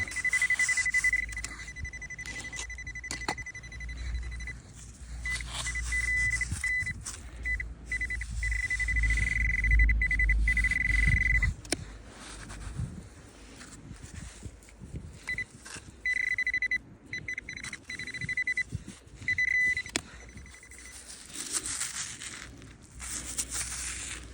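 Intermittent steady electronic beeps from a metal detector, a sustained high tone that cuts in and out in long stretches over rustling and scraping noise, during a night search.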